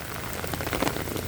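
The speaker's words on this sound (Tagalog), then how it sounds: "So, talagang all day po ngayon ang ulan." Heavy rain falls steadily, a dense close hiss of drops striking surfaces with no break.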